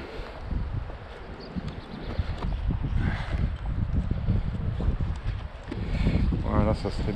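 Cool wind blows steadily across a microphone outdoors by beehives, a broad continuous rumble with gusts swelling near the end, while someone talks over it.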